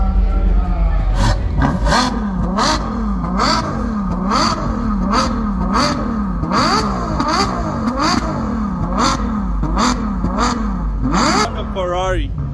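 A Ferrari supercar at an auto expo revving hard in a series of roughly a dozen loud, close throttle blips, each rising and falling in pitch over a constant crowd murmur with voices.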